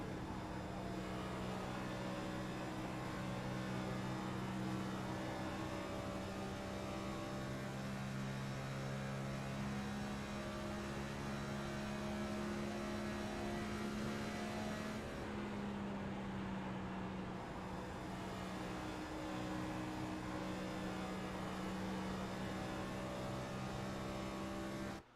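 Onboard race car engine of car 91 in iRacing at Kansas Speedway, a loud steady droning hum that holds a near-constant pitch with only slight shifts, heard continuously and close with no talking.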